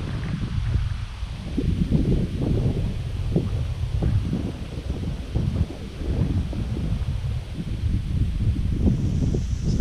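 Wind gusts through trees along a sunny country lane, a steady rushing rustle of leaves that swells and eases repeatedly, with some buffeting against the microphone.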